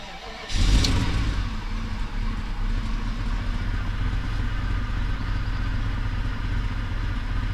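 A warmed-up Audi A8 engine with a misfiring fifth cylinder catches with a brief surge, then settles into a steady, close, continuous running drone that stays loud throughout, with no talk.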